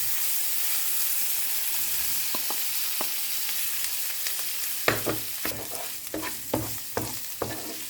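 Fried rice with carrot, corn and luncheon meat stir-frying in a hot pan, a constant close sizzle broken by repeated scraping strokes of a spatula that grow sharper and more rhythmic toward the end.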